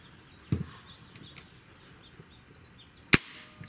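A Hatsan 95 Vortex break-barrel air rifle fires a single sharp, loud crack near the end, preceded by a softer mechanical thump and faint clicks in a quiet setting.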